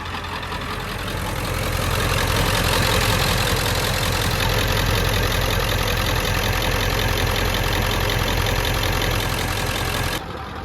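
A low-mileage, bone-stock diesel truck engine with stock exhaust and intake idles in neutral, holding a steady, loud, rumbling drone for about ten seconds before the sound cuts down near the end.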